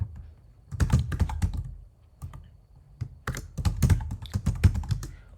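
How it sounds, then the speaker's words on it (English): Quick bursts of keystrokes on a computer keyboard as an email address is typed in, close and clear, with a short pause between the two runs of typing. "I'm going to type in my email ID here"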